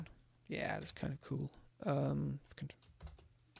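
Light clicking keystrokes on a computer keyboard come in short, scattered bursts, partly under a person's talk and more distinctly as the speech trails off.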